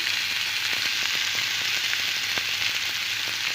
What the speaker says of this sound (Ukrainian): На сковорідку я вляла олійки. І буду засипати цибулю